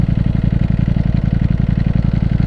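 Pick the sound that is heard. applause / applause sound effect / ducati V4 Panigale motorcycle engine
ducati V4 Panigale motorcycle engine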